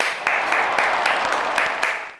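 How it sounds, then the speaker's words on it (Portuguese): Sustained crowd applause after a request to clap at a Brazilian talk on doulas and midwives, dense broadband clapping with periodic louder bursts, steady and fairly loud throughout. "Eu peço uma salva de palmas para essa frase."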